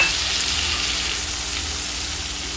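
Potatoes fried until browned sizzle steadily in a pan as a soaked paste of cumin powder and Kashmiri chili powder goes in, a continuous close hiss and crackle with no talking.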